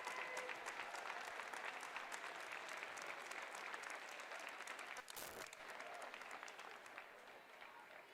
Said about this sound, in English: They all get a standing O from the crowd.